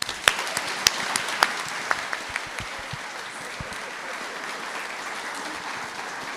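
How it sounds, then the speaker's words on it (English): At a public talk event, an audience gives a round of applause: a few sharp, distinct claps ring out first, then many hands merge into a steady, moderate wash of clapping that carries on evenly. "so let's give them a big round of applause"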